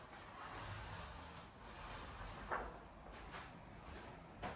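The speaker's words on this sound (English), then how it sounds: "and then you roll the other way. Make sure you don't roll over the lights." A paint roller spreads varnish across a wallpapered ceiling, producing a soft continuous rubbing and rolling swish with faint sticky crackles, quiet and close with no talk.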